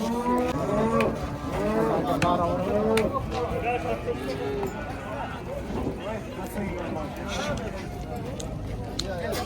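Cattle moo repeatedly at a busy cattle market, several animals overlapping near and far, with people talking throughout.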